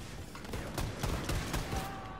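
Automatic gunfire rattles in the video game Wolfenstein II: The New Colossus, a rapid run of thudding shots at moderate level over a busy combat background, with no voices.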